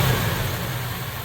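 1964 Plymouth Fury V8 held at a steady high idle, a continuous low rumbling drone with an even, unbroken level from start to end, alone with no talking.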